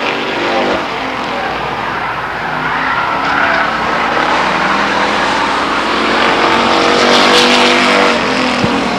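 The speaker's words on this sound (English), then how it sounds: "Danny Gabor driving like he's never won a trophy dash before, with a commanding lead over the 67 car of Johnny Bird." Race cars roar around the Stockton 99 Speedway during a trophy dash, engines droning loudly and continuously with passing swells, while an announcer talks over the noise.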